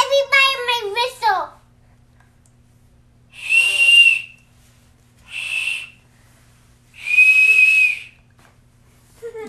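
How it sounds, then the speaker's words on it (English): A child's toy whistle is blown three times in shrill, steady blasts of about a second each, separated by pauses, after a brief burst of a voice at the start. "let me show everybody my whistle."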